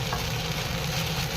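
Sabudana khichuri being stirred with salt in a hot pan gives a steady, close sizzle with soft scraping, continuous and even throughout.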